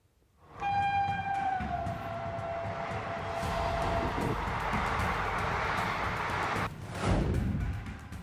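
A train pulls into Sheikhpura railway station with a long, loud horn blast, then a sustained rumble of wheels and cars rolling close by, and a second brief blast near the end.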